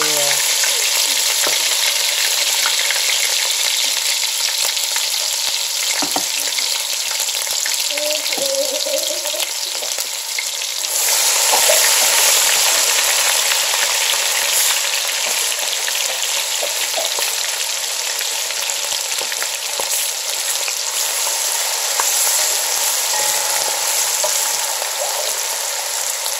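Garlic sizzles and fries in a pot while Haitian rice with beans is being made, a steady close hiss with occasional stirring scrapes and no talking.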